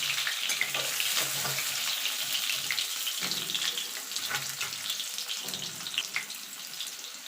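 Boiled small potatoes frying in oil in a kadai for aloo dum, a steady close sizzle with occasional stirring scrapes throughout.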